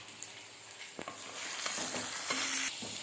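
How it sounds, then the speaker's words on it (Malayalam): Kichadi with asafoetida is stirred in a hot pan: sizzling and frying under scraping spoon strokes and soft stirring clatter, close and fairly loud, with no talk. "ഇനി നന്നായി ഇളക്കി യോജിപ്പിക്കാം."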